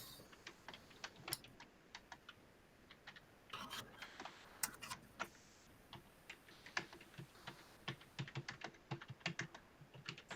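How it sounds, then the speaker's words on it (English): Rapid clicking of computer keyboard keys in quiet, uneven bursts across the whole stretch, fairly close and soft, with no talk over it. "Sorry about the typing, folks."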